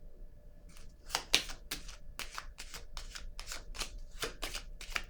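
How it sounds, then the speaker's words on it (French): Playing cards handled on a table spread, a rapid series of crisp flicks and slaps, about a dozen short card snaps in quick rhythm, close and fairly quiet with no talking. "Je vais déposer une carte sur la honte."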